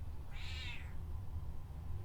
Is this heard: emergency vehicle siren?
no